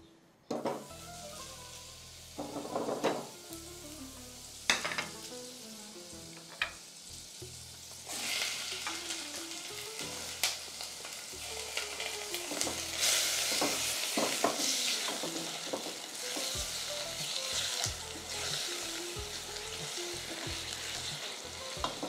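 Pieces of duck fry and sizzle in a hot saucepan, with a steady crackling hiss broken by repeated scraping stir strokes and a few sharp clatters, close and fairly loud throughout.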